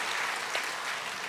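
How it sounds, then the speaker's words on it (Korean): Steady applause from a church congregation during a Sunday service fills the whole moment, dense and even with no voices on top. "우리 마지막으로 다시 한번 박수로 격려해 주시면서"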